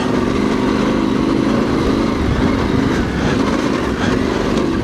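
A Yamaha Tenere Extreme motorcycle is held on the throttle through sand on a trail, its engine a loud, continuous, gritty drone with constant rushing noise and no pause.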